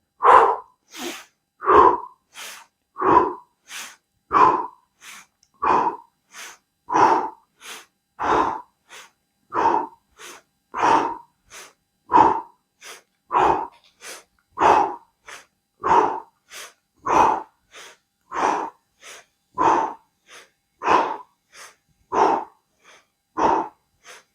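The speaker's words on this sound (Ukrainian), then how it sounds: "Вдих зі мною." A steady series of forceful, evenly spaced breaths during a spiral-movement breathing practice, about thirty sharp inhale-exhale pulses in a regular rhythm, close and loud with no talking.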